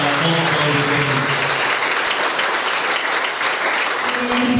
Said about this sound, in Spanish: Un fuerte aplauso al evangelista, al apóstol de Jesús.